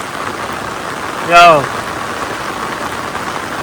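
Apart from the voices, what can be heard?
heavy rain falling at night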